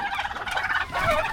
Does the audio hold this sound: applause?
no